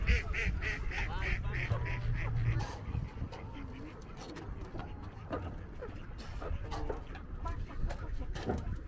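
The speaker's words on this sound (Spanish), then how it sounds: "Mira qué bonito ese pato blanco." Ducks at a lake, a white one among them, quack in a rapid, nasal run up close at the start, then call more sparsely and faintly while people talk nearby.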